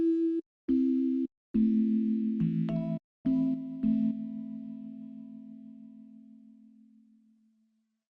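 A Fluid Harmonics synth patch plays a buzzy, sustained low tone that keeps dropping out to silence in a rhythmic stop-start pattern. Pitch steps shift between chunks, then a final held note fades out slowly over several seconds.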